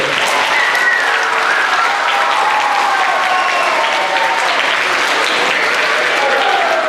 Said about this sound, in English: Let's give Reggie another round of applause